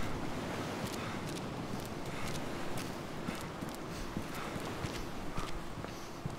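Footsteps walk on cement in DayZ Standalone, a steady series of crisp, close scuffing taps over a soft airy background hiss.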